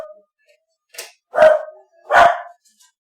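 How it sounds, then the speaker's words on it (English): A dog gives a short yip followed by two louder, sharper barks, spaced about a second apart and fairly close, with no talking. "We're going to hear a little barking for a while."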